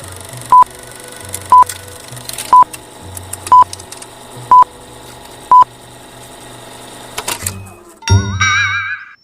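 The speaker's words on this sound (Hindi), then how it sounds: "चलिए टाइमर शुरू करते हैं।" An electronic countdown timer gives six sharp, evenly spaced beeps about one second apart, then a brief warbling chime, with no voices.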